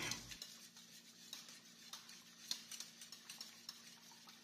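A spoon stirs burger steak sauce mixture in a metal pot, giving light repeated scraping and clinking taps at an irregular rhythm, close and fairly quiet with no talk.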